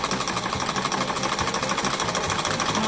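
Sewing machine stitching a fabric mask, a loud, continuous rapid whirring and clattering of the needle running steadily close by, with no talking.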